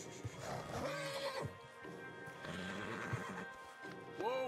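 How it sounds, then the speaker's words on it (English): Horses neigh and whinny several times in the video game Red Dead Redemption 2, with hooves clip-clopping beneath, loud and close against a busy background. "Javier, you're gonna lead the stallions."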